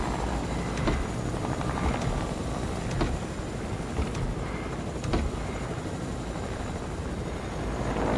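Helicopter flying in the Fortnite video game, a constant loud rotor thrum with faint regular thumps running steadily throughout without talk.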